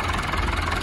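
A tractor engine idles after starting, a steady dense low rumble heard close up and continuous through the short moment without talk.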